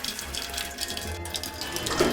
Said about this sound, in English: And pours a cup of tea.